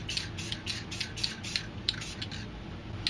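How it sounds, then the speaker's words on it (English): A spray paint can releases black paint in a series of short hissing bursts, roughly a dozen quick regular puffs close up and fairly quiet, with faint clicks between them. "I'm going to spray some black down here to add some shading to the moon"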